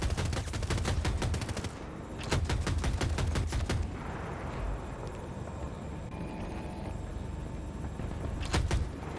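Rapid bursts of automatic cannon fire from a vehicle-mounted weapon in Battlefield 2042, loud and close, in several volleys with a short pause between them and a final burst near the end.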